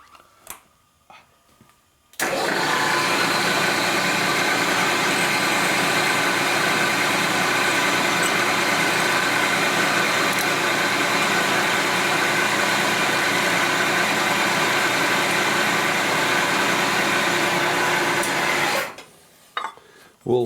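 A drill with a 1/4 inch bit bores into a Harley panhead-to-knucklehead cam cover, one continuous loud whirring run of about sixteen seconds, with a few clicks before it starts and after it stops.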